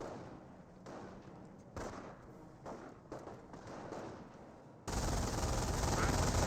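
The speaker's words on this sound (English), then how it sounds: "MG42 firing away, suppressing down the Rifleman" An MG42 machine gun in the Company of Heroes game fires in repeated bursts over distant battle noise, and a louder, denser stretch of fire takes over at the end.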